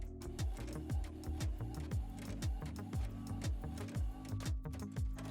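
An inkjet printer runs a print job on heat transfer paper, its carriage shuttling back and forth with quick repeated whirring sweeps and clicks in a steady rhythm, close and fairly quiet.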